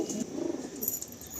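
Kalshira Fulshira pigeons, a matched pair, give a soft, faint coo at close range, brief and low, with a little background hiss.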